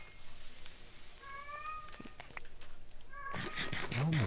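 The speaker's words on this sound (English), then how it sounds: "Oh my goodness, that cat." Meows from a Minecraft cat sound as a few short, clear, high calls spread out over a quiet game background, followed near the end by a louder burst of mixed noise with a voice under it.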